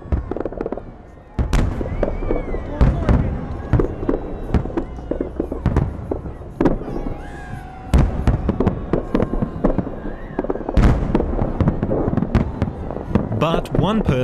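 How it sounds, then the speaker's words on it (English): Fireworks over the River Neva in Saint Petersburg bang and crackle in a loud string of sharp bursts, some close and booming, others popping in quick succession, with a faint crowd murmur underneath. "Fireworks over the River Neva cap a big day."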